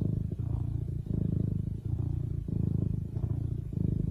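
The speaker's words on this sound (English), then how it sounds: "do other species of felines purr? And the answer is absolutely. Again, here is a serval," A serval, the African wild cat, purrs steadily and close, a low rumbling drone pulsing in regular cycles of inhale and exhale across several breaths, with no other sounds.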